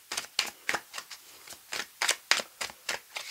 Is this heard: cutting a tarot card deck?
yes